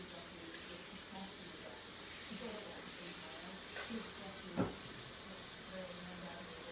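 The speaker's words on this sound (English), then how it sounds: "Now, I want to wash it so I don't have any of that Greek seasoning stuck in here." A dish, used for Greek seasoning, rinsed under running kitchen tap water: a steady close hiss of flowing water with a single brief clink partway through.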